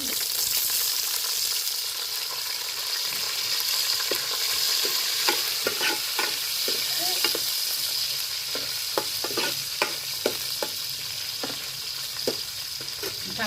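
Onions frying in a pan after curry leaves, a continuous close sizzle with scattered sharp pops and crackles growing busier toward the end.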